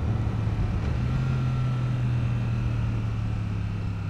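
Royal Enfield Super Meteor 650 motorcycle exhaust giving a steady, loud, low rumbling gargle close by while riding, sustained throughout with no talk.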